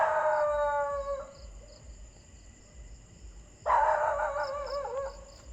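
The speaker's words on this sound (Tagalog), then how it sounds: "Merong aso dito guys." Two long, wavering dog howls ring out, the first fading after about a second, the second rising after a quiet pause; no talking.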